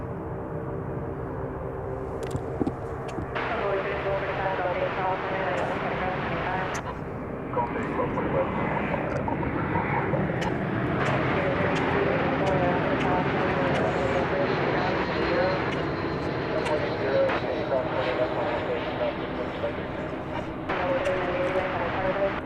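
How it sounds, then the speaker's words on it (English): American Airbus A321 touching down at Dallas Fort Worth airport, a sustained airliner engine roar with a steady tonal whine, while a voice talks over it. "Flight 2193 touching down from Tucson, Arizona. And Airbus A321."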